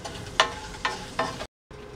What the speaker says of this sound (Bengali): 1-2 মিনিট এটাকে একটু ভেজে নিব